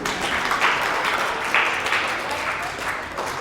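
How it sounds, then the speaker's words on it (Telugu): Clapping from an audience gathered for a talk with children, a brisk, steady wash of many hands with a few louder bursts, fairly close and filling the short span. "ఫస్ట్ క్లాప్స్ కొట్టండి."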